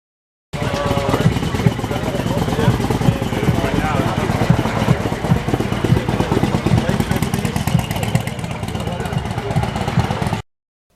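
Several motorcycles, Ducatis among them, idle and rumble together at a crowded Bikes and Breakfast meetup, a dense, steady engine din that lasts throughout.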